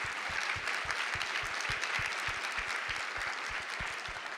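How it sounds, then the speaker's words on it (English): Audience applause at a summit on Angelman Syndrome, dense steady clapping from a large crowd sustained evenly throughout, with no voices over it. "I think we should all give them a round of applause for that effort"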